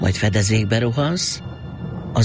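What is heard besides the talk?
No distinct noise like a dog, phone or traffic.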